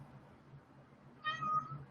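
A cat gives a single short meow near the end, faint and somewhat distant against a quiet room hum.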